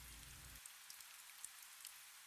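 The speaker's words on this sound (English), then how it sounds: "Rain may come and go." Light rain in the Bunya Mountains forest, a soft steady hiss of drops on leaves with scattered louder taps, faint and continuous.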